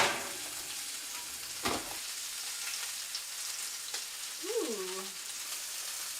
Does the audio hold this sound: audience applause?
no